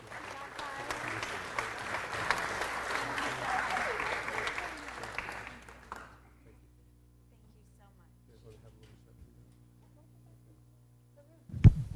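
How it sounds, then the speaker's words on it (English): Audience applause fills a city council meeting chamber, steady clapping for about six seconds before fading to near silence, then a brief loud knock or bump at the end. "And another round of applause, please"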